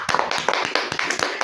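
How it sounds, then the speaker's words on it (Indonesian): Hands clap in a quick irregular burst, roughly a dozen sharp close claps over a second and a half, as a small group applauds on a football podcast set. "Tepuk tangannya teman-teman."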